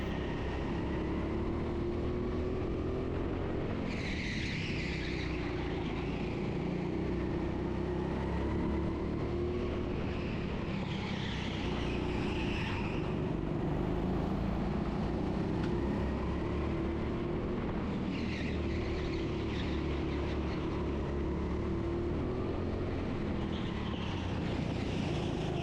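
A kart engine drones continuously at a TeamSport indoor go-karting track, a steady buzzing hum with the pitch rising and falling in repeated waves as the driver accelerates and brakes through corners, close and unbroken throughout.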